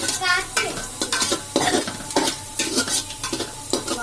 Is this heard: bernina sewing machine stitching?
no